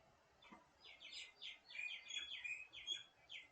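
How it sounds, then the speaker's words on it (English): Small birds chirp outdoors in Australia, faint and somewhat distant, a series of quick high tweets and trills repeating over a few seconds with a soft background hum. "So there are birds in the background. They're chirping"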